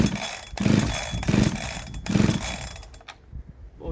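A Husqvarna 372XP clone chainsaw with a cheap carburettor sputters and surges in uneven bursts, revving up and dropping several times before dying out near the end.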